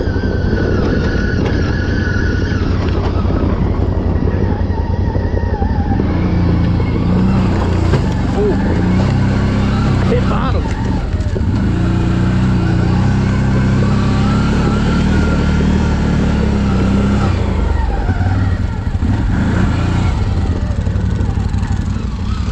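2024 CFMoto CForce 800 XC ATV ridden on a first ride, a loud steady engine drone with changing revs and rumbling wind buffeting throughout, with a voice talking over it.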